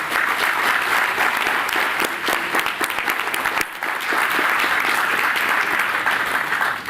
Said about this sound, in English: Applause for all of you.